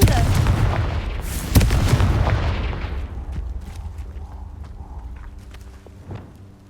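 The Confringo blasting spell explodes in Hogwarts Legacy on Xbox Series, a sudden loud boom and crackle that rolls out into a long, fading rumble with faint game sounds after it.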